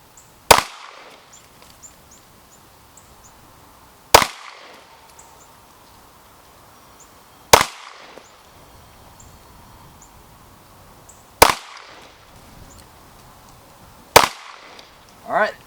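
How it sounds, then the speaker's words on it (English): Five sharp pistol shots fired slowly and evenly, about three to four seconds apart, loud and close outdoors while a red dot sight is zeroed, with faint birds and rustling between shots. "I'm going to just take 5 shots very deliberately and see where I go."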